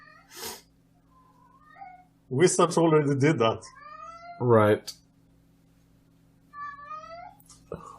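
A pet cat named Ash meows several times in the background, with short rising cries at the start and end of the stretch, while people talk over a card game.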